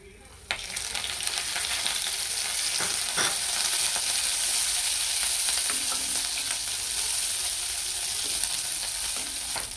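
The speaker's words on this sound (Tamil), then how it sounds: "ஒரு கப் கருவேப்பிலையும் போட்டு நல்லா வறுத்து எடுத்துக்க போகிறோம்" Curry leaves fry in a pan for a Tamil garlic curry-leaf kuzhambu, a loud, continuous close sizzle that bursts in suddenly and holds steady, with occasional crackles and stirring scrapes.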